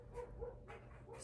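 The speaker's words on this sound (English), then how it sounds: "sorry for the neighbor dog barking" A neighbor's dog barks in a few short bursts somewhere off at a distance, faint and muffled against a low indoor background.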